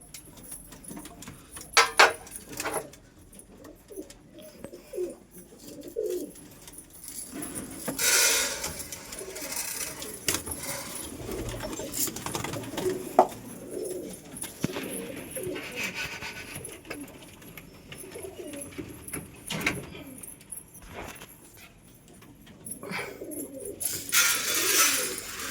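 Pigeons coo softly at feeding time while grain is handed out to single birds, low murmuring calls coming and going at moderate distance, with occasional flutters and scattered clicks in between.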